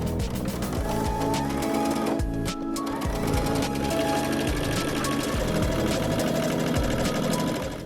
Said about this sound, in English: The next step is to stitch nice and close to the inner folded edge.